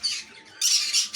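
Caged pet birds in an aviary let out shrill, rapid squawks in two or three short bursts, close and fairly loud, with no talking over them.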